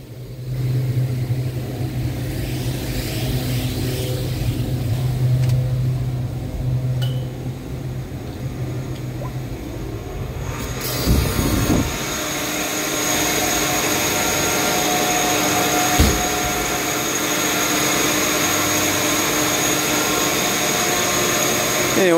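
Large air handling unit fans run inside an industrial plant, making a steady broadband roar with a low hum. Partway through, the tone shifts abruptly and the roar grows fuller and brighter.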